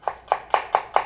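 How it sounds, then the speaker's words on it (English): A knife chops onions into julienne strips on a cutting board, making five crisp, evenly spaced knocks in quick rhythm. The sound is close and clear with no talk. "I start by cutting the onions"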